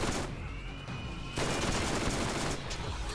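Rapid gunfire from the Borderlands video game, a dense stretch of repeated shots with a brief drop-off before resuming at full intensity, fairly loud and without talk.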